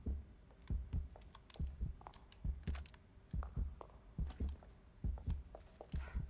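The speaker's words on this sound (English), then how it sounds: "That's my heart beating so loud." Heartbeat in The Evil Within video game: a faint, steady series of low paired thumps repeats evenly for several seconds, close and muffled, with no one speaking.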